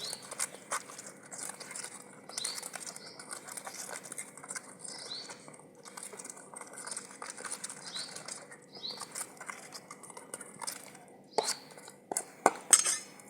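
Gram flour batter for village-style Punjabi pakoras being whisked in a bowl, a steady wet slapping and patter that repeats rhythmically, close and fairly quiet, with a few sharper clinks of utensil against the bowl near the end.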